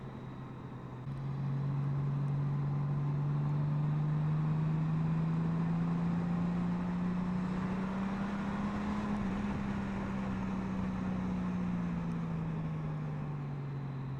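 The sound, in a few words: motorcycle engine and throaty exhaust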